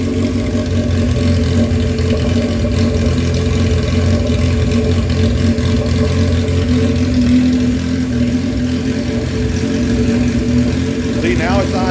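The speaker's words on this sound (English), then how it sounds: "now it's idling" A 1977 Honda CB750 motorcycle engine idles steadily throughout, a continuous low hum with a slight smoky, worn-valve-seal condition, close by, with a brief rising rev near the end; someone talks over it.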